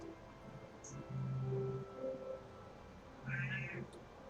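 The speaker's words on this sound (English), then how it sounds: "That is my cat that you hear." A domestic cat meows a couple of times, soft and somewhat distant, over a low steady background hum with no talking.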